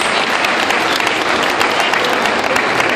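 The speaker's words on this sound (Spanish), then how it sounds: "les pido un fuerte aplauso" Strong audience applause at the Latin American Festival opening ceremony, a loud, dense and continuous burst of clapping from a crowd, holding full intensity from start to finish.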